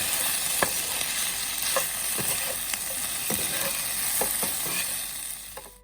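Chicken 65 being stirred with salt in a hot pan, with a steady sizzle of frying and irregular scraping knocks of a utensil against the pan, with no talk.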